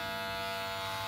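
An electric hair clipper glides over a styling comb while cutting a medium-short tapered haircut, giving a close, steady motor buzz for the whole short moment.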